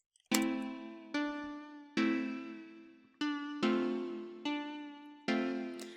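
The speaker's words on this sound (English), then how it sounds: "this guitar comes from the Galaxia preset bank that I just dropped" A plucked guitar sample from the Galaxia preset bank in Reason plays seven separate notes in an uneven rhythm. Each is bright and clear, rings, then decays, with no voice over it.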